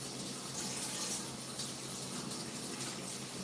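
An air fryer basket being rinsed under running tap water, a steady close hiss and splash of flowing water that continues without break and with no voices.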